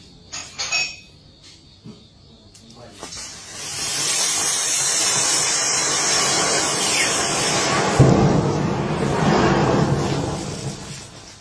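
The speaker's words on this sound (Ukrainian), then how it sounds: "Ось як може відреагувати літієвий акумулятор на механічні пошкодження." A lithium battery hisses and vents after mechanical damage, a loud sustained rushing hiss starting after a few faint clicks and building to a steady roar, with a sharp crackling burst midway.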